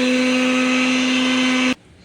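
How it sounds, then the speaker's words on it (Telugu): A kitchen mixer grinder blends the water ingredients for panipuri, a loud steady motor whine with a strong constant hum that stops abruptly just before the end. "మనం పక్కకు పెట్టుకున్న వాటర్ ఇంగ్రీడియంట్స్ అన్నీ నేను మిక్సీ చేసేస్తున్నాను."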